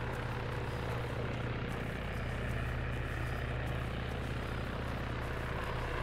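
Several helicopters, including small Little Bird scouts, fly in the military video game Arma 3. Their rotors and engines make a steady, loud, unbroken drone that fills the whole stretch.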